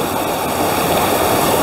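Constant heavy rush of a waterfall on the Yorkshire Moors, loud and close, a dense unbroken hiss of falling water with no other sounds over it.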